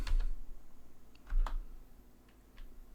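Code is typed on a computer keyboard in short bursts of crisp, close key clicks with brief pauses between them.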